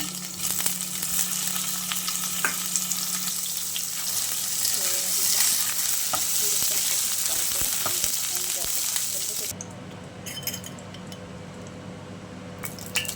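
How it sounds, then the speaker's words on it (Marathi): Paneer cubes frying in hot oil in a pan, a steady close sizzle with small pops and stirring squishes, easing down toward the end. "पॅनमध्ये तेल घातलेलं आहे आणि पनीरचे अशा प्रकारे क्यूब केलेले आहेत तर ते थोडेसे फ्राय करून घेऊया"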